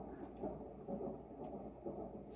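Quiet recorded tropical thunderstorm ambience played from a smart speaker, a steady low rumble of rain and distant thunder with faint rolling swells and no voices.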